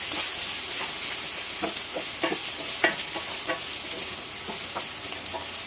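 Fried fish, chilies and onions are tossed in a hot pan, with a continuous sizzle and repeated light scraping stirs at an uneven rhythm, close up.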